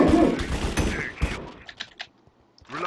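Gunfire in a Hypixel video game: a quick volley of sharp shots under a voice at the start, followed by a few isolated cracks.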